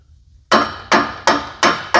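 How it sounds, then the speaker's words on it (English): A mechanic's hammer strikes a loose exhaust manifold bolt on a Chevrolet Silverado, landing five sharp, close metallic blows in a steady rhythm about a third of a second apart, with no talking. "we can see that's loose from my mechanic's hammer"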